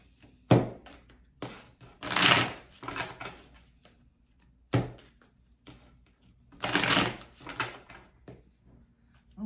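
Tarot cards being handled and shuffled on a table make several separate bursts of crisp riffling and soft thumps, set apart by short quiet gaps, close by and fairly faint.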